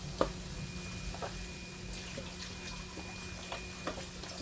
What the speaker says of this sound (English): I'm going to take and put some of this broth in here.